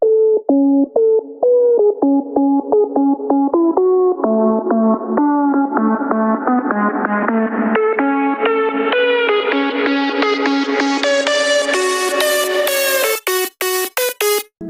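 Layered synth leads play a rising, stepping melody that climbs steadily in pitch and density, ending in rapid stuttering hits; loud and continuous with heavy effects.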